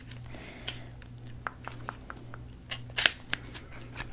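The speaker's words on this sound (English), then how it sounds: "I love packaging sounds." Makeup packaging crinkles and snips up close in quiet, scattered bursts, with light plastic handling clicks and one sharper crackle, set against a low steady hum.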